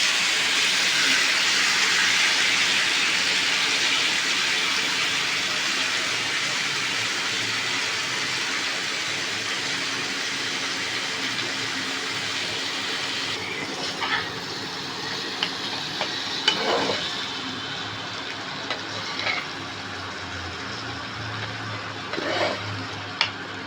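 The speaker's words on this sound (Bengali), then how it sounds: "এবার মোচাটা দিয়ে দিচ্ছি, দেখুন সেদ্ধ করা।" Boiled banana flower hits spiced potatoes in a pan for a vegetarian ghonto, setting off a strong, steady frying hiss that slowly fades, with a few light clinks of stirring toward the end.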